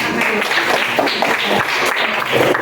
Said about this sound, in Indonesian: Tepuk tangan untuk kamu.